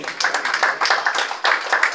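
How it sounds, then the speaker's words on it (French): Church congregation applauding after a pastor's request, a thin, patchy clapping of a modest group in bursts with no talk over it. "On pourrait l'applaudir s'il vous plaît, merci."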